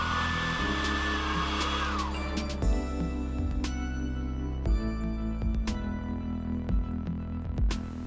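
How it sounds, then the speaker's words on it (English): A hair dryer heating the front of an iPhone XS display drones steadily at close range, its hum shifting pitch a few times, with small clicks and handling knocks over it. "Using a hairdryer, heat the front side of the display where located the sensors."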